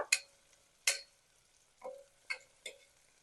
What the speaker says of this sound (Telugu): బీరకాయ వేస్తాను ఇది కొంచెం పచ్చివాసన పోయేదాకా వేగినాక